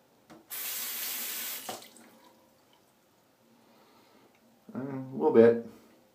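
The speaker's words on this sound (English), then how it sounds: "let me finish rinsing this off properly" Bathroom tap water gushes into a sink for about a second while rinsing after a razor shave, then stops; a few drips follow before a second short burst of running water splashes with handling noise near the end.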